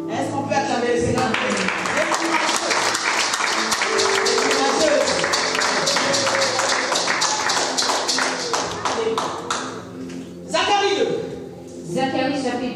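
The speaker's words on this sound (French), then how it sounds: "Est-ce qu'on peut acclamer le Seigneur?" Church congregation clapping and cheering in praise, a dense continuous wash of applause with rhythmic claps and shouts, loud and close throughout, with voices mixed in and a brief dip near the end.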